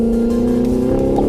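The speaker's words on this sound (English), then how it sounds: "there's no sound that's quite like a straight pipe German V8 rip into redline" A straight-piped 4.2-liter V8 in an Audi R8 roars up close, a loud continuous raspy engine tone held high near redline throughout.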